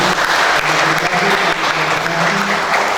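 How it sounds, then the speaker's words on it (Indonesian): Congregation applauding a family during a church service, loud dense clapping filling the whole three seconds at an even level. "Sekali lagi tepuk tangan untuk keluarga ini"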